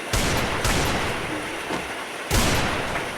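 Gunfire in the mobile shooter game Free Fire, with about three loud, sharp shots at irregular intervals and a booming, rumbling tail after each, close and alone without talk.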